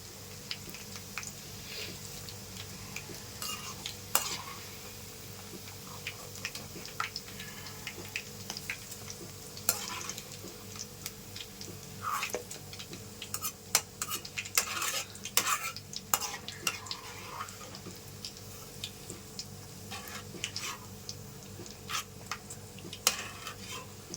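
Chilies and curry leaves fry in a pan under a low, steady sizzle. A utensil stirs them with frequent scraping clinks against the metal throughout, and no voices are heard.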